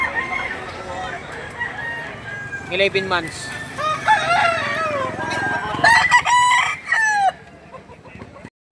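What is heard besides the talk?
roosters crowing at a gamefowl market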